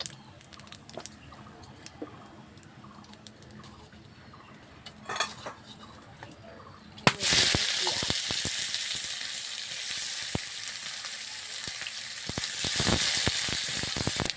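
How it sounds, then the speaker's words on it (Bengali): Onions fry in oil for an egg curry, first a quiet crackle with clinks of a utensil against the pan, then a sudden loud hiss as more oil goes in, settling into a strong steady sizzle with stirring scrapes. "আমাদের পেঁয়াজগুলো লাল লাল করে ভাজা হয়ে গেছে"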